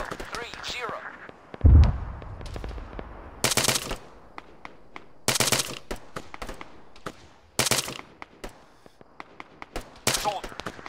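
Automatic gunfire in the military video game Arma 3: loud bursts of rapid shots repeating every couple of seconds, a heavy thump early on, and clipped voice callouts between volleys.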